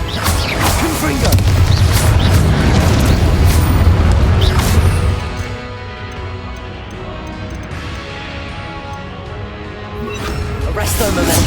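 A Confringo blast spell in the Hogwarts Legacy video game goes off with booming, crashing impacts. Loud rumbling bursts fill the first five seconds, give way to a quieter stretch of game sound effects, then a fresh burst arrives near the end.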